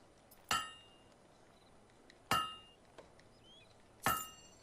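Three sharp, ringing metallic hammer strikes, each followed by a bright decaying clang, from the blacksmith forge minigame in the video game Fable 2, spaced about two seconds apart over a faint steady background.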